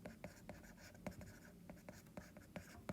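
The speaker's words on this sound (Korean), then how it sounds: "자, 이제 한글로 써볼게요." Handwriting during a Korean high school math lesson on arithmetic sequences, quick close pen strokes and taps in an uneven rhythm, fairly quiet.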